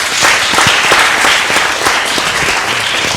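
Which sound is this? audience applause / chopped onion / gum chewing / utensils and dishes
audience applause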